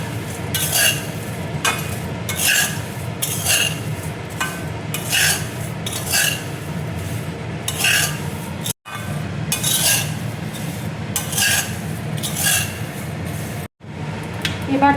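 Chiwda, flattened rice, is tossed in a pan with fried coconut, chickpeas, cornflakes and sev, giving close, dry, rhythmic scraping strokes and a rasping crackle, repeated steadily with two brief pauses.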